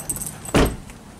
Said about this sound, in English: let me grab my keys real quick